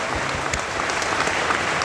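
Dense audience applause at a business meeting, a continuous hiss of many hands clapping together, steady and moderately loud throughout with no pauses.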